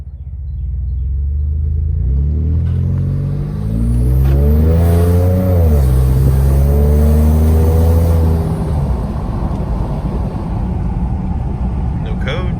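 Ford F-150 truck engine on a test drive, a close rumbling drone that rises and falls as it accelerates and shifts, steady throughout with a voice over it.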